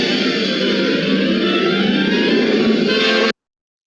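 A leitmotif music excerpt from a TV production of at least 26 episodes plays as a steady, dense, heavily processed sustained passage with echo, holding level for about three seconds before cutting off abruptly.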